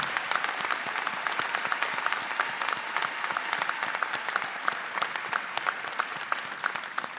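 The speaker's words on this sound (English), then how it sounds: "please give one more round of applause to our Hodges Scholars" A commencement ceremony audience applauds for scholars, a steady wash of many hands clapping with sharp individual claps standing out, sustained and fairly close.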